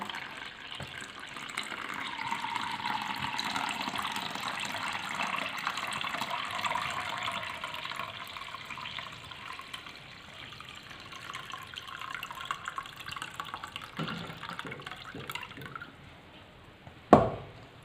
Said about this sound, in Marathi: सर्व पाणी आपण आता निथळून काढून घेऊया